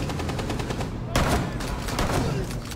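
Gunfire in a Rainbow Six Siege-style tactical shooter, a rapid string of evenly spaced shots with one louder close report in the middle, continuous over the whole stretch.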